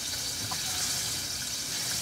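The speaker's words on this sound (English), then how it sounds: "We have to add more water now" Water running steadily from a kitchen tap into a pan, a continuous close hiss and gush with no talking.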